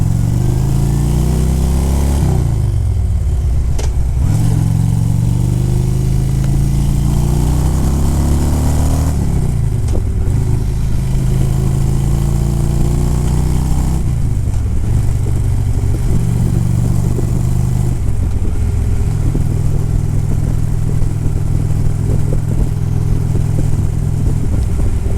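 A motorcycle engine revs up and settles repeatedly, pitch climbing and falling in several pulls before holding a steady drone, loud and close.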